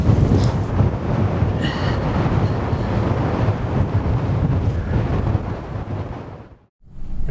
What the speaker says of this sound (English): This is too windy for the decoy.